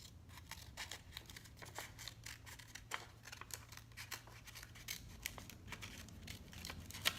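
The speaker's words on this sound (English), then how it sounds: "I just go in and out with the scissors, just to give like a bumpy effect" Scissors cut out a paper tree shape, snipping in and out to make a bumpy outline, with a soft steady run of close snips and crinkles.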